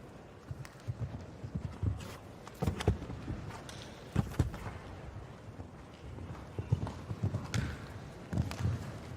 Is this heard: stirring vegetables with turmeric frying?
no